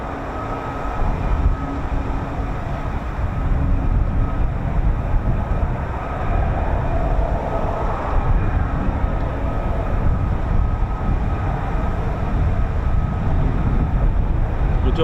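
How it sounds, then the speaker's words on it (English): An F-35B stealth fighter jet engine spools at an RAF air base, a steady, dense roar holding at moderate distance throughout without pause. "That is the sound of a F-35B spooling."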